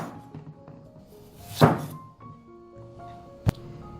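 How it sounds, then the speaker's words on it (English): A knife lops off the ends of a 500-gram bottle gourd, giving two distinct thunks on a cutting board, the first heavier and the second a sharp tap, close and alone in a quiet kitchen. "Let's lob off the ends of the bottle gourd."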